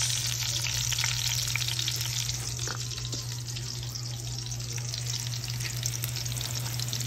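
Garlic frying in a pan for squid adobo, a steady, close sizzle and crackle of hot oil with a constant low hum underneath, no talking.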